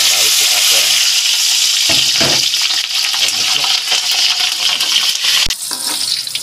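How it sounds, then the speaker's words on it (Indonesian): Red bird's eye chilies frying in oil for a peanut sambal, giving a loud, steady sizzle with stirring scrapes throughout and a brief dip near the end. "Kemudian ini untuk cabai merah rawit kita goreng."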